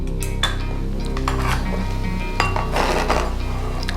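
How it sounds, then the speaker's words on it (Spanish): Chopped mint is stirred into a cheap seasoning blend for grilled meats, with close clinks and scrapes of a utensil against a bowl or board over a low steady hum. "simplemente lo mezclamos"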